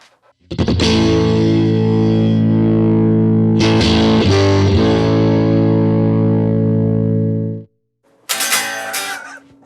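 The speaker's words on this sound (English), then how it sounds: "Stereo imager, so this should be pretty cool. This actually makes your guitar sound wider." A distorted electric guitar runs through a stereo imager effect in AmpliTube 5, sounding wide. Sustained chords are played with a restrum midway and cut off suddenly, then a brief bright burst of playing follows after a short silence.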